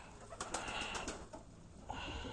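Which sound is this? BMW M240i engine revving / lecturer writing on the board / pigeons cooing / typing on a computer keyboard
pigeons cooing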